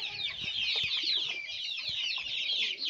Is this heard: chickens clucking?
yes